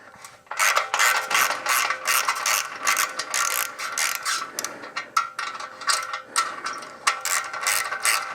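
A ratchet wrench loosens the 12 mm clamp nuts on the muffler of a Royal Enfield Himalayan motorcycle, rapid clicking bursts in quick runs with brief pauses, close and clear with no speech.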